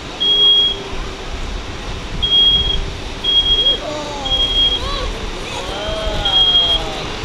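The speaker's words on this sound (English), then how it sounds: "not very long for that smoke detector to go off" A smoke detector at a safety fair sounds repeated short high-pitched beeps in an irregular rhythm, heard over loud crowd and vehicle-like background noise, with a person talking during parts of it.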